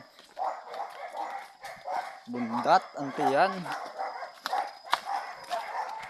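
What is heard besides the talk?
dog barking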